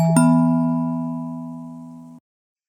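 Microsoft Office 2003 quiz show launch sound: a single bright chime struck once, then a clear tonal ring that fades gradually over about two seconds before stopping abruptly, loud and alone.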